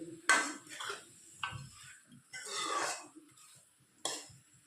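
A metal lid clatters onto a cooking pot in a home kitchen while duck and fiddlehead curry is made, giving several short, sharp clinks and rattles, close by and fairly quiet, with pauses between them.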